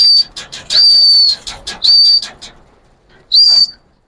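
Giribaz pigeons take flight in bursts of flapping wings, broken by several shrill, steady whistles and short pauses between them.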